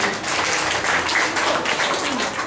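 Applause from an audience at a Balinese bondres comedy performance, a steady wash of clapping at moderate loudness lasting a couple of seconds without speech.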